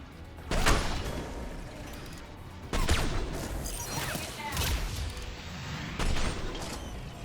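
Gunfire and a shot container bursting in a Mass Effect 3 firefight: several loud, sharp blasts ring out among rumbling battle noise, each trailing into a brief crackling decay.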